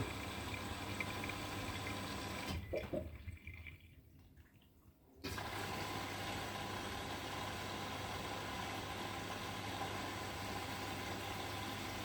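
A front-loading washing machine starts a wash cycle and fills with water, giving a steady rush and hum with a quieter dip partway before the flow returns at full level.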